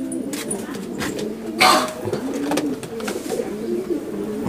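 A golden male pigeon coos while held, its low throaty burbling rising and falling close by, with a short rustling burst of wing or handling noise partway through.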